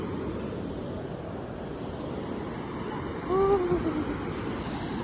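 Surf rolls onto the sand at Shrivardhan beach, a constant broad roar with wind buffeting the microphone and one surge swelling louder partway through, while a faint voice and a brief high call sound briefly.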